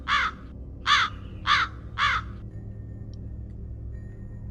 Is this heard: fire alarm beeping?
no